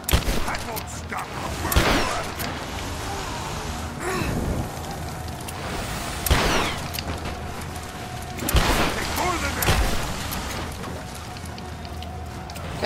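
Gunfire in Rise of the Tomb Raider sounds as several loud, separate shots spaced a few seconds apart over a busy game soundscape, with someone talking at points.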